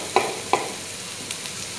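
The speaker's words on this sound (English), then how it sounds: "Ayan, haluin lang." Onions are stirred in a pan while making chicken Chinese spaghetti, a steady close sizzle with two sharp utensil clinks and a few softer scrapes.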